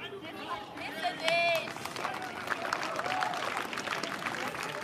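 Crowd clapping at an outdoor demonstration near a refugee shelter, a moderate rippling patter with voices and chatter mixed in, rising after the first couple of seconds.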